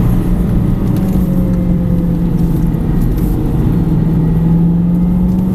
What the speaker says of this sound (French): On accélère. Et troisième.